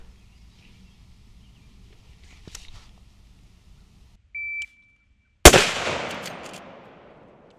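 A short shot-timer beep sounds, followed about a second later by a single sharp, loud gunshot from a lever-action or AR-15 rifle that rings out and decays.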